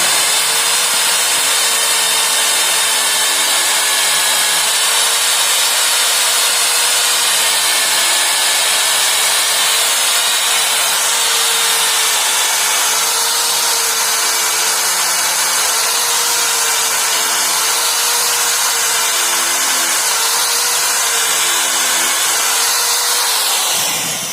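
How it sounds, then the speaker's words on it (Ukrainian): A universal concrete drill bit bores out a hole for a garage loft ladder, a loud steady whine with a droning motor tone that holds throughout, lightly wavering in pitch as the bit bites, with no talking. "Далі беремо це універсальне сверло по бетону, розсверлюємо."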